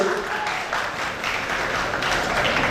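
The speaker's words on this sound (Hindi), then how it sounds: "तो दोबारा जरा जोरदार तालियां बजाइए" Steady, dense audience applause fills an annual function hall from start to finish, loud and continuous with a faint murmur of voices underneath.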